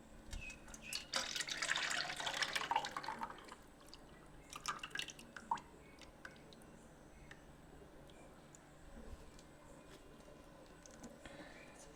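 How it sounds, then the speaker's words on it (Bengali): Milk pouring into a container at home for Bengali misti doi, a soft liquid splash and trickle for a couple of seconds, then a few faint drips over a quiet room. "তো এরপরে দুধটি ঢেলে দিচ্ছি এই পাত্রটিতে"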